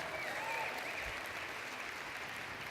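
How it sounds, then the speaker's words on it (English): An audience at a diabetes educators' conference applauds, a steady faint patter of clapping filling the hall with no voices over it. "give that a round of applause"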